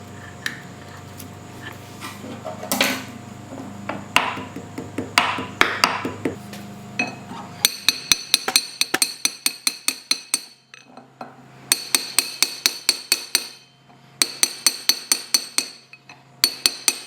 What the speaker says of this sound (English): I just kind of use a brass punch there with the hammer to lightly tap it in